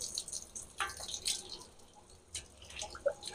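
Water draining through a freshly watered Cattleya orchid pot, faint irregular drips and trickles with small splashes, quiet and close.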